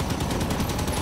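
Gunfire in the video game Halo 5: Guardians, with a loud, dense burst of rapid shots filling a single second.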